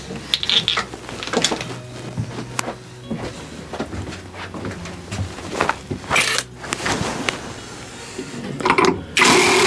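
A ratchet tightens a fan back down in quick bursts of close mechanical clicking, with short pauses and occasional metallic knocks between the strokes.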